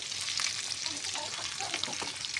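Chopped garlic cloves and coriander frying in oil while stirred, the first step of a meat and vegetable tagine, a dense bright crackling sizzle with faint stirring scrapes, steady and close, no talk.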